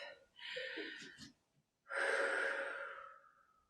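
Two slow, close breaths during a relaxation exercise: a soft drawn-in inhale, a short pause, then a longer, fuller exhale, quiet and alone.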